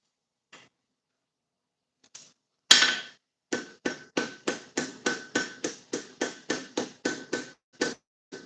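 A blacksmith's hammer forging leaf wall hooks on an anvil strikes in a steady, ringing series of about fourteen sharp blows, after a few faint early taps and one loud opening strike.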